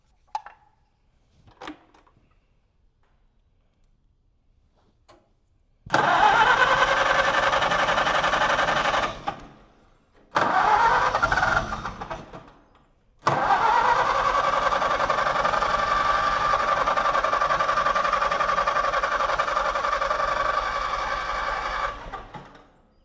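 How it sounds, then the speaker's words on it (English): An old International tractor engine, its ignition points in question, starts after a quiet pause, runs roughly for a few seconds and stops. It catches again briefly, cuts out, then fires up and keeps running steadily at close range. "as soon as the engine turns over and they close again, they may not"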